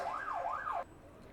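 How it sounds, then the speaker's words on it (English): An emergency siren wails up and down twice, rising and falling, then cuts off abruptly, leaving a low background hum. "sorry about the sirens."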